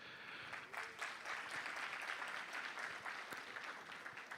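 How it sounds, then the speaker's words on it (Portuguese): Audience applause at a sales-management talk, a steady wash of many hands clapping at moderate level for several seconds with no voices over it. "Uma salva de palmas para vocês."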